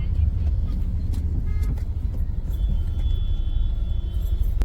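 Steady low rumble of road traffic stuck in a jam, with engine drone close by, a faint horn toot and voices talking over the noise.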